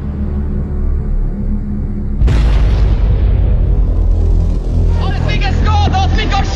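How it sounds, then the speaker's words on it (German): A car bomb detonates at a government building in central Oslo, a sudden loud boom that gives way to a long roaring, rumbling aftermath with debris noise and distant shouting. "Johan Tandberg ist Zeuge der Explosion und macht diese Bilder."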